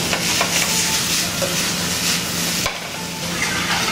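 A pan of okra sofrito simmers and cooks down with a steady soft sizzle, stirred with occasional scraping and light knocks. There is no speech.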